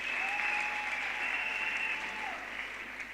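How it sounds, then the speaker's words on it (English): Steady applause from a university graduation ceremony crowd, broad and sustained throughout, with a few high whistle-like tones riding over the clapping. "Can we give him a big round of applause?"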